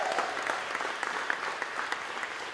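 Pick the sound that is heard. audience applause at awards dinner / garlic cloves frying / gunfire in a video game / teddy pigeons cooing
audience applause at awards dinner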